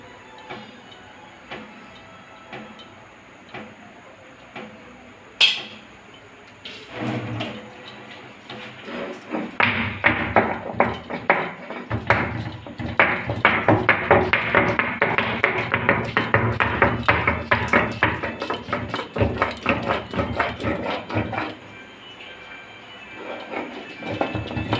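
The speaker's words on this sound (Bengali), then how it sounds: "আদাগুলো বেটে নিব।" Ginger is ground by hand for a fish-head mung dal, a sharp knock at first and then a long run of rapid, dense scraping and pounding strokes that fade toward the end, with no voices.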